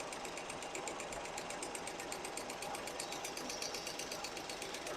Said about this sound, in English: That's how you can adjust rocker arms with the engine running on a small block Chevy.